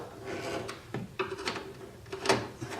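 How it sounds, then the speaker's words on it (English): Screws are tightened by hand on a VW Beetle dash, giving close, scratchy turning and rubbing sounds with several short clicks and knocks in an uneven rhythm. "Tighten the screws down."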